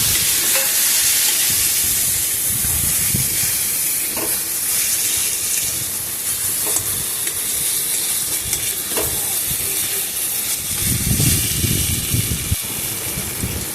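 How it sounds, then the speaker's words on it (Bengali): Foxtail millet is stirred in with vegetables in a hot pan, making a loud, continuous hiss and sizzle broken by repeated scraping strokes of a spatula, heard up close with no talk. "সবজির সাথে কাউনটাকে ভালো করে আমি মিশিয়ে দেবো।"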